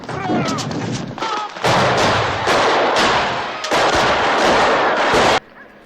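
Gunfire from the 1972 film The Godfather rings out in loud, dense bursts of rapid shots, with brief lulls between volleys, heard through playback at close range.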